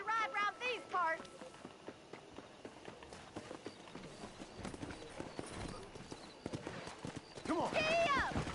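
Horse hooves clip-clop at a steady riding gait in Red Dead Redemption, faint and rhythmic under game dialogue, with a horse's whinny at the start and again near the end.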